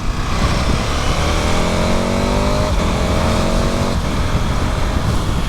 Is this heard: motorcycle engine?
yes